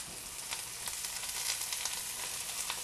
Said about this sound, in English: we want to hear that little sizzle because now we know the onions are going to caramelize